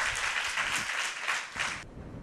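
Audience applause at a Christian sermon for mothers, steady dense clapping from a congregation that continues through the clip, with a brief dip before rising again.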